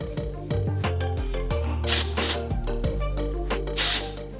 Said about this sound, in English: I'm gonna use this dry texturizing spray. And just spray, mess it up a little bit.